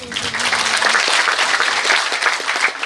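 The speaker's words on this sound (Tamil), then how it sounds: "இதுக்கெல்லாம் நீங்கள் கொஞ்சம் பெருசாக கைதட்டணும்" An audience at a Tamil film event applauds loudly and continuously, a thick, even wash of many hands clapping close by that holds strong throughout.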